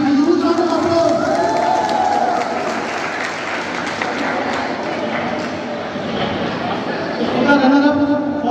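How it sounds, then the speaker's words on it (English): An office crowd at an Independence Day celebration applauds and cheers loudly and continuously, a dense wash of clapping with raised voices and talk mixed through it. "A huge round of applause."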